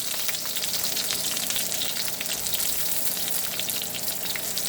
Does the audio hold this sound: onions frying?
yes